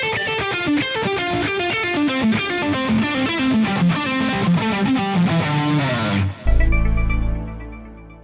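A fast electric guitar phrase through heavy distortion, played with hammer-ons and pull-offs across the strings: a rapid, fluid run of legato notes that ends on a loud, sustained low chord ringing out and fading.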